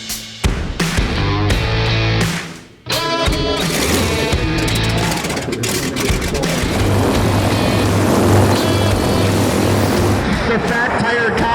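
A Yak 110 aircraft with a jet engine mounted underneath performs at an air show, a loud sustained engine roar with shifting tones that stays close and strong throughout, with someone talking over it.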